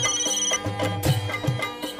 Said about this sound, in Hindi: बबीता जी को फोन करता हूँ.